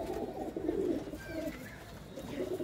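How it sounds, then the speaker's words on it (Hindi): A pedigree pigeon offered for sale in Ludhiana coos in low, throaty rolling notes, close and fairly soft, with faint chirps from other birds behind. "ये देखो जी कबूतर"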